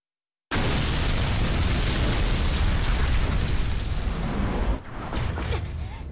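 An explosion in Dead or Alive 4 roars as a loud, sustained rumbling blast for several seconds, then drops to a lower burning rumble as it dies away.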